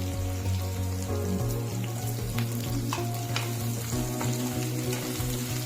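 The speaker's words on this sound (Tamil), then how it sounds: "நல்லா வதக்கிக்கலாம் அது கூடவே கொஞ்சோண்டு கல் உப்பு ஆட் பண்ணி வதக்கிக்கலாம்" Onions sautéing with rock salt in a pan for garlic kuzhambu, a dense continuous sizzle and crackle close by, with light stirring scrapes and no talk.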